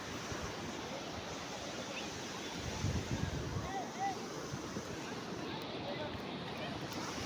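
Sea waves wash onto a beach in a steady, surging hiss, heard from close by with gusting wind buffeting the microphone and a faint voice or two mixed in.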